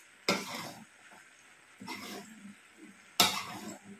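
Vegetarian fusilli pasta stirred in a pan: three separate scraping, rustling strokes spaced a second or more apart, fairly quiet against a still background.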